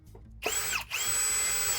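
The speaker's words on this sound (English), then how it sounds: "you don't have to just sit here and watch me drill" Power drill running during an off-grid backyard power system build, a brief start then a steady loud whine that dips once and resumes, close by with no talk.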